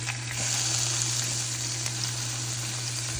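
Shrimp sizzle in a hot skillet with olive oil, a steady, even hiss of frying heard alone over a faint low hum throughout.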